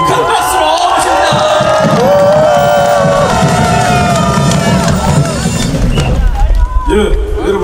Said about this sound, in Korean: 대표님 큰 박수로 모십니다!